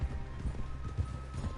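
Horse hooves gallop in Red Dead Redemption 2, a quick run of soft, rhythmic thuds repeating over a low, steady background rumble.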